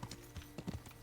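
Horse hooves clip-clop on the ground in the medieval video game Kingdom Come, a few close, uneven hoof strikes over a steady low game hum.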